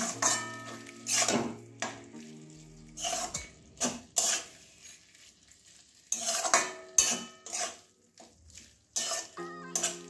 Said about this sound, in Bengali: রসুন দেওয়ার পরে আবার কিছুক্ষণ একটু নাড়িয়ে নেব, কাঁচা গন্ধটা যাওয়া পর্যন্ত।